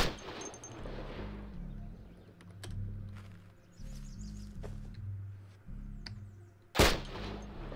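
In the video game Cataclysm: Dark Days Ahead, a single sharp gunshot cracks near the end, cutting through a quiet, pulsing game soundtrack with a few faint clicks.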